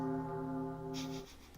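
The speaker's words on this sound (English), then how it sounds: "the soundtrack was just a single ringing bell" A single bell rings as a sound effect, one sustained resonant tone with strong harmonics that holds steadily and then cuts off, followed by a brief soft noise.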